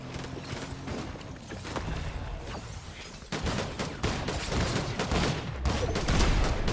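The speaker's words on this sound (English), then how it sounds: "Oh yeah, shotgun." Shotgun blasts in the video game Fortnite, several loud close bursts cracking out over a dense, busy game mix, with two sharp shots near the start and more clustered hits in the second half.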